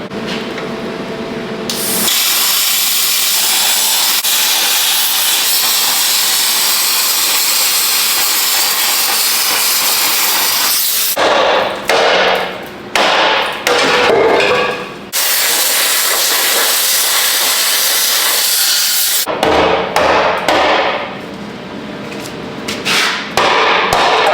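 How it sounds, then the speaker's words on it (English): A plasma cutter slices through the frame of a Duramax pickup truck, giving a loud, steady hissing roar that runs for long stretches, broken by short pauses and sputtering restarts. "Looks ugly, it's a plasma cutter."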